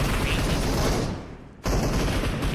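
An M249 machine gun fires sustained, dense bursts in a PUBG Mobile esports match, loud and close, with a short lull before the fire resumes abruptly.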